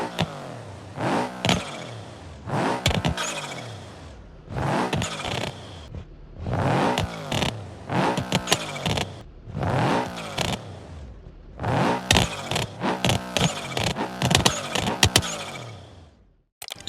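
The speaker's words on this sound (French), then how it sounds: "ils sont passés d'un moteur 4 cylindres en ligne à un 4 cylindres à plat. Ça a eu pour conséquence de changer le bruit" A flat-four engine car in BeamNG.drive revs hard through a series of repeated bursts, loud and close, each climbing pull separated by brief gaps between gear changes.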